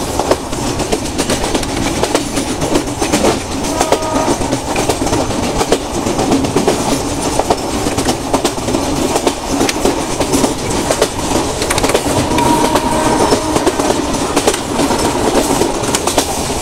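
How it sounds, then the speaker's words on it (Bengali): Banglabandha Express rolling out of Abdulpur station bound for Rajshahi, a loud, steady rumble of wheels and carriages with faint rhythmic clatter running unbroken throughout. "আমাদের ট্রেন আব্দুলপুর স্টেশন থেকে ছেড়ে চলছে তার গন্তব্য স্টেশন রাজশাহীর উদ্দেশ্যে"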